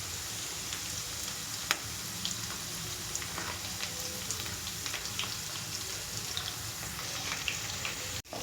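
Onions and green chillies frying in a pan for a bendakaya and dosakaya mixed curry: a steady, close sizzle with scattered crackles and pops, a louder clatter near the end, and no talking.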